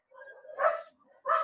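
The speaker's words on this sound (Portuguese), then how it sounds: "Perdoe meus cachorros, tá bom?" Pet dogs barking indoors, two short sharp barks about half a second apart with a softer yip before them, loud and close with no talk over them.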